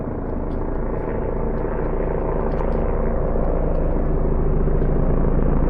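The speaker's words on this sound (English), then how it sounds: "Helicopter flying." A helicopter flies over mountains on a training flight, its loud, steady rotor throb and engine rumble filling the air without pause.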